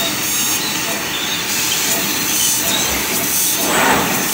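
CNC laser cutting machine working on a metal plate, giving a continuous, loud, broadband hiss with a faint whine, steady throughout with small swells near the end.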